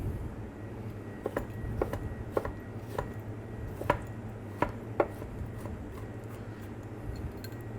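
Vegetables are cut into cubes with a knife on a board, a series of crisp, fairly evenly spaced chops at a steady pace over a low background hum, with no talking.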